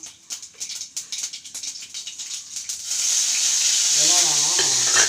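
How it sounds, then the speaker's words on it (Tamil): Mustard seeds, then cumin, hit hot oil in a pan while cooking a sundakkai fry, first giving quick rhythmic popping crackles, then a loud continuous close sizzle, with a faint voice heard briefly near the end. "இந்த பாருங்க கடுகு போட்டுக்கிறோம்"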